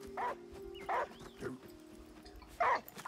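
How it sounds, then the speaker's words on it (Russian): A dog in the video game Last Day of June whimpers and yips in short bursts, four brief cries spaced apart over a low steady hum, fairly close and moderately loud. "Слушай, а может собаку подозвать?"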